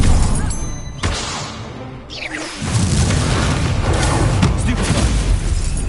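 An Incendio fire spell bursts out in Hogwarts Legacy gameplay: sharp booming blasts and whooshing fire crackle, a sudden crash midway, then a sustained roaring rumble continuing to the end.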